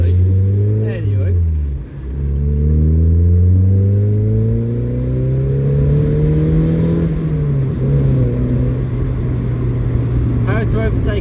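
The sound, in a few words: Mazda MX-5 car engine revving while driving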